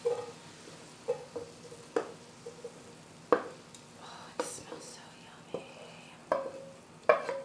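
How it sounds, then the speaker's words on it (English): Cheese and other ingredients for salmon Alfredo tipped into a big pot and stirred, giving irregular spoon knocks and scrapes against the pot over a soft, faint sizzle. "We are going to dump all of this into the big pot here."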